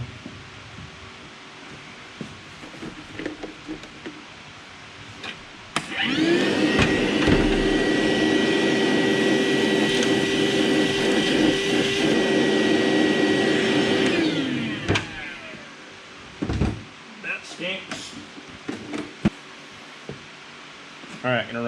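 A shop vac roars steadily for about nine seconds, cleaning out a mouse nest from a budget enclosed-cab side by side utility vehicle, loud and close, with clanks and handling noises before and after.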